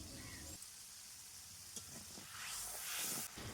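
Slit green chillies hit hot oil in a frying pan with a soft, steady sizzle that swells into a brighter hiss toward the end, faint and close, alone.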